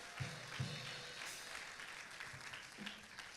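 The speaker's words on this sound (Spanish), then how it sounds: "¿Alguien puede darle un aplauso al Señor?" Church congregation during a Sunday sermon applauds, fairly faint and somewhat distant clapping spread through the room, with a few brief voices under it.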